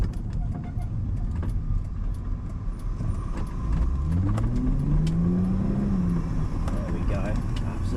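A beginner sports car drives through a roundabout, its engine droning steadily inside the cabin and then climbing in pitch as it accelerates out, with road rumble throughout and a voice talking over it.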